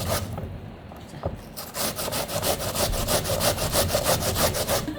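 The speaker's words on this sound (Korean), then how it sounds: "요 모서리 쪽으로 벌써 그 강판에 가는 소리가 틀려요." Potatoes are grated on a hand grater using a cut corner, giving steady rapid rasping strokes that speed into a regular scraping rhythm, close and fairly loud, with no talking.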